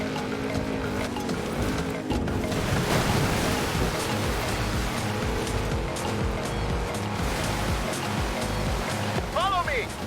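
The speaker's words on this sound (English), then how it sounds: "Drive off-road into the river." A Ford Bronco truck plunges off-road into a river in Forza Horizon 5, with steady rushing, splashing water and engine rumble throughout and a brief chirp near the end.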